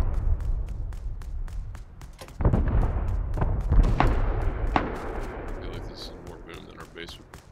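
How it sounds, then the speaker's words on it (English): Rocket and C4 explosions hitting a metal base in the video game Rust, heavy booming thuds landing in a loose series, loud and fairly close, with voices talking over them. "it's 8 rockets. It's just stone, right? No. Metal. That was like C4, though."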